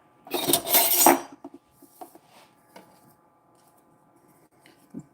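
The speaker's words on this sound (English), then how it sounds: "Put 6 tablespoons in here and stir this. Mix this up thoroughly." Six tablespoons of melted butter stirred in a pan give off one loud, close, clattering scrape burst near the start, followed by sparse faint taps and clinks.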